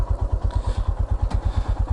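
Royal Enfield Himalayan single-cylinder motorcycle engine just started, idling with a steady, loud low thumping pulse close by, a few mechanical clatters riding on top.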